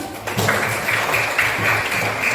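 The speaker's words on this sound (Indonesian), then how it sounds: "Tepuk tangan untuk anak-anak dulu." Children in a classroom receive a short burst of group clapping, a patter of claps that starts abruptly and rises into uneven, fairly close applause.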